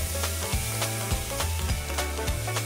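Ravioli fry in a pan with a continuous bright sizzle, punctuated by rhythmic low thumps and clatter roughly every half second, close and fairly loud, with no speech.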